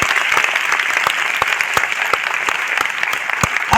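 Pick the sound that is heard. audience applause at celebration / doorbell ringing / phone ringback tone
audience applause at celebration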